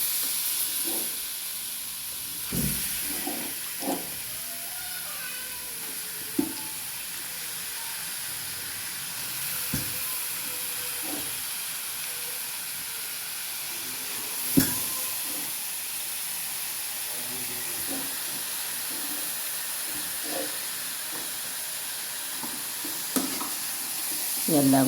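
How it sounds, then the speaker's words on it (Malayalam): Chicken frying in a pan for a chicken roast, a soft continuous sizzle and hiss with occasional spoon scrapes and clinks as it is stirred, fairly quiet and close. "എല്ലാം കൂടി ഒന്ന് ഇളക്കി യോജിപ്പിച്ച് മൂടിയിടാം."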